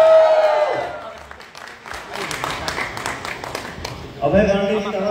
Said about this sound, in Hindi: एक ताली बजा के बताइए।